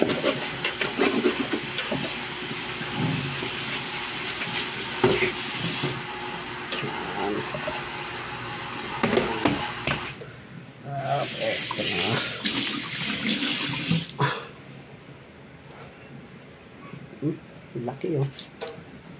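Tap water runs and splashes while scaly fish are washed in a sink, a steady hiss broken by sloshing and handling noises, with a person talking over it throughout.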